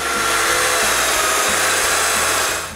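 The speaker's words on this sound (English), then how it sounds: "Then I can make all the mortises, starting with the stiles." A domino joiner cuts mortises into wooden interior door stiles, giving a loud, close, steady high-pitched whir with rhythmic low pulsing as the cutter plunges, and no voices.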